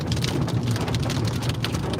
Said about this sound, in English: Here we go, get some hail now. Get some bigger hail now.